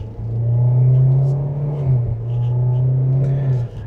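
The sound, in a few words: 2027 Kia Seltos 1.6 liter turbo engine accelerating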